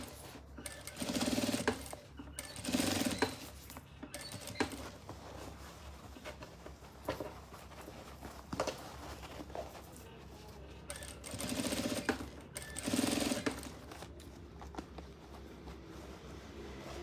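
A sewing machine stitches a fabric toiletry bag in short bursts, a close, quiet, rapid whirring that starts and stops several times with pauses between runs.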